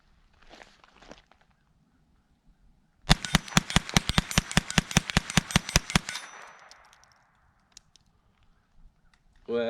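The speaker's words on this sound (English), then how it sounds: "I'm gonna let her go, and I'm gonna do kind of a faster shot here, just so we can see it cycle faster" Rapid string of about fifteen sharp shots from a Winchester Wildcat .22lr rifle, fired in quick even succession at close range, with brief quiet before and after.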